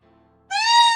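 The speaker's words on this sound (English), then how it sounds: "This is a baby cat. I want you to roar," A baby cat giving a single bright, rising meow that starts abruptly after a near-silent moment and holds loud and clear to the end.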